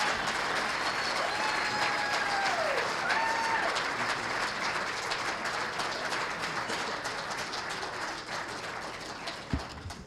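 Sustained applause from a crowd at a school district athletic Hall of Fame induction ceremony, loud and dense throughout, with a few voices whooping over the first few seconds before the clapping slowly eases.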